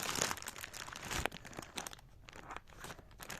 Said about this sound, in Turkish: Tek elle açmak çünkü zor bu paketi.